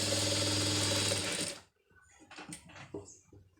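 A sewing machine stitches a sleeve joint in a loud, fast continuous whir for about a second and a half, then stops abruptly, followed by quieter clicks and fabric handling.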